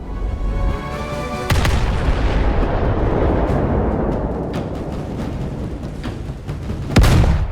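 HMS Warspite's big naval guns fire in the Roblox game Naval 1945: a loud booming salvo near the start, a long rumbling roar after it, and a second heavy blast near the end.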